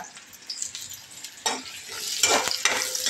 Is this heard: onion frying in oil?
yes